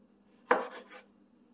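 A single knife stroke slices through food on a cutting board, one crisp close chop followed by a short scraping drag, then quiet.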